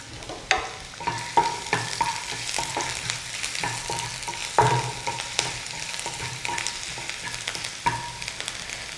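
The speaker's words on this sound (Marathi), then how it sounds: "आता यात हे बारीक केलेले अद्रक आणि लसणाचे तुकडे घालायचे. ह्याला एक अर्धा मिनिटच फ्राय करायचं आहे." Finely chopped ginger and garlic sizzle in about two spoons of hot oil while being stirred for a vegetable dry Manchurian, a steady close frying hiss broken by repeated clinks and scrapes of a spoon against the pan.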